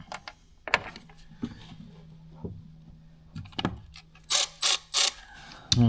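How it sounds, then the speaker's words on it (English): A 1/4 inch ratchet tightening a bolt on a Ford Super Duty truck bed accessory: scattered taps and clunks first, then four quick, loud bursts of ratchet clicking close by near the end. "since our socket's 1/4 inch, we got our 1/4 inch ratchet. Run that up."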